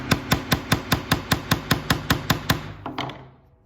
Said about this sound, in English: So when you're hammering, you can go right through the hole.